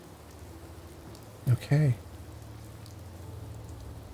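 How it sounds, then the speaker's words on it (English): Steady hiss of rain falling in the video game Fallout 4, soft and continuous throughout, with a single short spoken word cutting in briefly near the middle. "It's raining."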